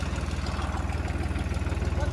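A New Holland 3630 tractor's engine runs at idle nearby, giving a steady, loud, low rumble with an even pulsing throb.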